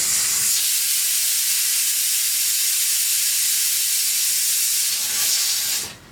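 Tapioca cooking in a pressure cooker gives off a loud, steady hiss of escaping steam that holds unbroken for about six seconds, then tapers off abruptly at the end, with no voices present.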